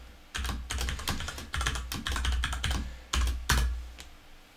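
Someone types a password on a computer keyboard, with a quick run of loud, close keystrokes in uneven bursts and a short pause near the end, with no talking.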